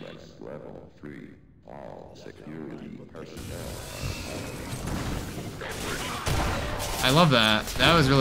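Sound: possessed turret firing in Entropy Zero 2 video game

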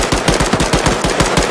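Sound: gunfire in the video game Arma 3

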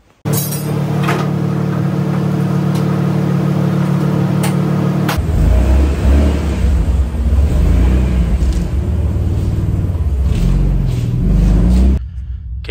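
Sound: turbo RB30 engine starting and running in XR31 car

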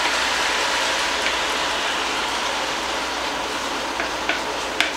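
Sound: stir fry sauce sizzling with beef in the pan

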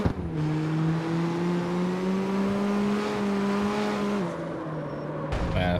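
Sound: car driving around the block in video game CarX Street

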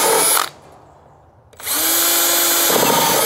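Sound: power drill drilling holes in a pipe

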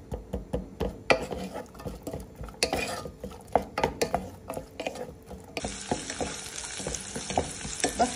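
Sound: onion and garlic frying together on gas stove

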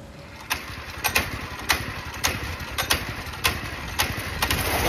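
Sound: small engine running with choke partly on

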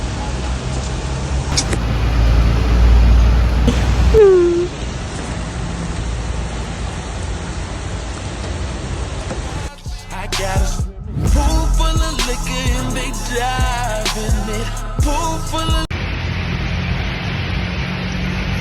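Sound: rain falling outdoors

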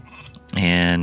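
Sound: sheep bleating in the video game Northgard

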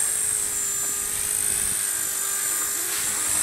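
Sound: Walkera 4G3 double brushless micro RC helicopter flying

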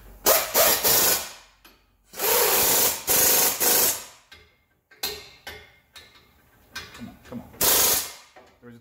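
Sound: impact gun tightening brake bolts

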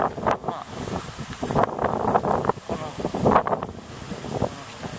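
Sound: strong typhoon wind blowing

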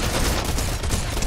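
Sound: gunfire from the player's shots in Fortnite video game

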